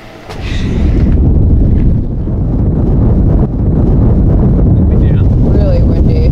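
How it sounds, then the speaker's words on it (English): Strong wind roars steadily across the microphone aboard a sailboat under way, a loud, continuous rush with brief dips and gusts throughout. "Really windy."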